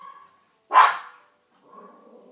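A dog gives one sharp, loud bark, with faint whines before and after it in a quiet room.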